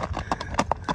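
A white-grey horse's hooves clip-clop close by in a quick, regular series of about half a dozen sharp strikes within a second.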